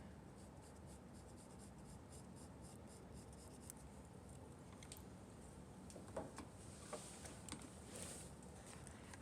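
Pencil scratching on paper while drawing teeth in a smile, a soft, continuous close-up scribble with quick strokes and light taps, faint and alone without speech.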